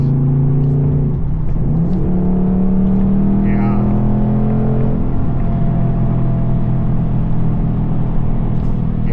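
A Ford Mustang Dark Horse engine rumbles and revs, its pitch sweeping up and down in quick rev-matching blips between gear changes, loud and close with a constant low drone.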